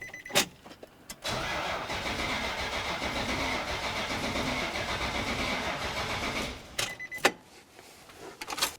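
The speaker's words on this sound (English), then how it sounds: "now that we tried cranking it and it either didn't start or it did start and then died out" A Nissan Titan pickup engine cranks with its fuel pump fuse removed, a steady whirring starter drone lasting about five seconds that fails to catch, framed by a few sharp clicks and knocks before and after.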